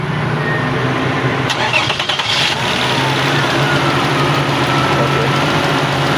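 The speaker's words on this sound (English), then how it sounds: "So we are going to start the vehicle right now." A car engine cranks and catches after its throttle body has been cleaned, then settles into a steady, close idle with a brief rougher burst around the start.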